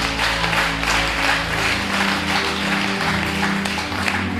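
A church congregation breaks into applause, a dense, steady wash of many hands clapping together for several seconds over a low, constant hum, with no voices rising above it.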